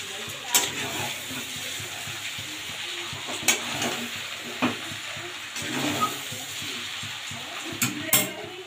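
Sweet-sour-spicy tomato sauce being stirred into homemade chicken chow mein in a hot pan, with a steady soft sizzle and scraping spatula strokes, plus a few sharper clinks of utensil against the pan.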